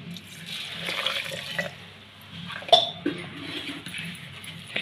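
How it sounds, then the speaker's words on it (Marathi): A glass of water is poured over grapes for juice, a soft splashing pour with a brief clink of glass partway through, close and fairly quiet. "तर मी आता 1 ग्लास पाणी घालणार आहे।"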